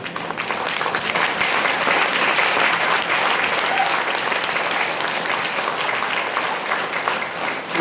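Steady applause from a large audience at a motivational seminar, dense continuous clapping holding at an even loud level throughout with no speech.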